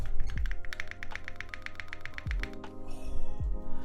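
Quick, even clacking of a tray-mount mechanical keyboard with tuned H1 switches, close up, with a few deeper thocks from the spacebar mixed in; no talking.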